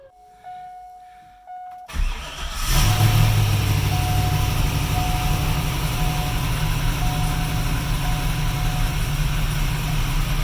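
A V8 car strapped to a dyno cranks after a short quiet stretch, catches and fires up, then settles into a loud, steady, rumbling idle that carries on to the end.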